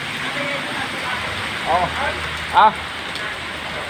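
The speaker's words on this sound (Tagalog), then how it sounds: "Tamong lakas-lakas ng ulan ho." Heavy rain pours down in a steady hiss, with a short exclamation from a voice and a couple of brief knocks or splashes rising over the downpour.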